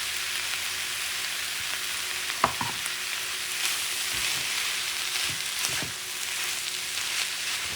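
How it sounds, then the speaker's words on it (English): Steady sizzling frying of crab meat being stirred in a hot pan on the stove, with a few soft utensil knocks and scrapes over the constant hiss. "What you're doing is mixing it so you can turn the stove off and add some of the crab meat now."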